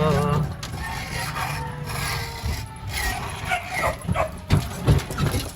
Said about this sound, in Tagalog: Ayan ang mga aso.